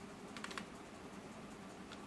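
Quiet typing on a computer keyboard while entering data in MS Access: a quick cluster of key taps early, then a few scattered faint presses over low room hum.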